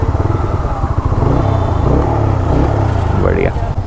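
A Bajaj Freedom 125 CNG motorcycle idling on CNG fuel at close range, a steady low chugging engine rhythm throughout with a brief rising whine near the end and no talk over it.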